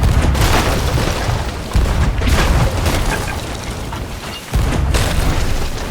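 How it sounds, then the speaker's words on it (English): Heavy booming ship cannon blasts in the video game Sea of Thieves, three or four of them at irregular intervals, each a deep thud over a constant noisy rumble of battle. "Shoot cannon line as quickly as possible."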